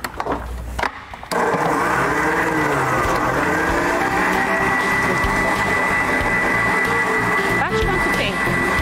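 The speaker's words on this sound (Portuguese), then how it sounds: "enquanto faz o barulhinho da batedeira" An electric stand mixer beats lemon cake batter, switching on after a brief quieter stretch and then running as a loud, steady whirring whine.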